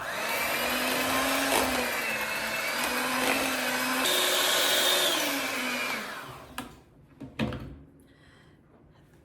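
An electric mixer whirs steadily through pumpkin cheesecake filling with eggs, a loud, even motor drone lasting about six seconds before it cuts off, followed by a few soft clunks.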